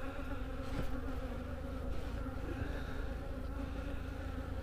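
Honey bees buzzing at a beehive in January, a dense continuous drone of many wings close by with no voices.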